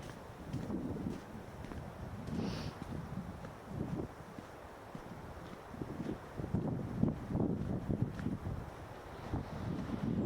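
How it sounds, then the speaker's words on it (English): Light wind buffets the microphone steadily on a calm, sunny coastal walk near Halleklippen on Bornholm, Denmark, a soft continuous rush with faint rustling and no talk. "Bit of wind, but not too bad."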